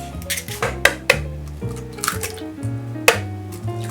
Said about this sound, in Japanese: で、泡立てなくて結構ですので溶きほぐしておきます。